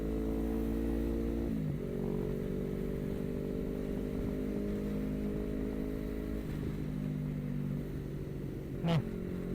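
A Honda CBR250 motorcycle engine hums steadily while riding, its pitch shifting with gear changes and throttle, close and continuous with wind noise.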